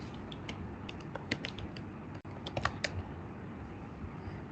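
Steady typing on a computer keyboard while writing CSS comments, a run of light, close clicks and taps over a soft background hiss, with no voice.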